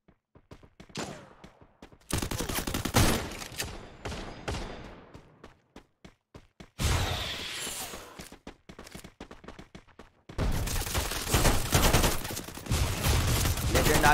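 Bursts of rapid gunfire from a Free Fire Clash Squad championship final, dense overlapping barrages broken by short lulls, loud and close, with crackling single shots in between.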